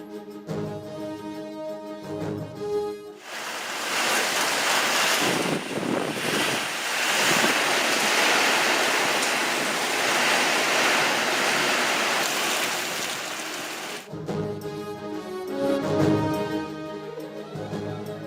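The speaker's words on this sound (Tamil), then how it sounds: "பலத்த காற்றுடன் கனமழை" A steady, loud roar of heavy rain and gusting wind in Bargur, Krishnagiri district, Tamil Nadu, fills the middle of the clip, with softer background sounds before and after.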